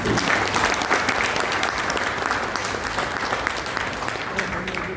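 A crowd at a business club gathering gives loud, steady applause, dense clapping from many people continuing evenly from start to finish.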